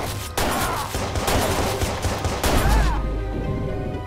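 Gunfire in the video game Watch Dogs, a dense loud burst of rapid shots filling the few seconds, with a heavy low thump near the end.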